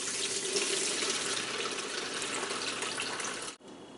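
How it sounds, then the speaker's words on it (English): Brandy and wine punch poured carefully into a punch bowl, a steady, close, continuous splashing stream that stops abruptly just before the end. "So you're going to carefully pour this into this and hopefully not spill everywhere."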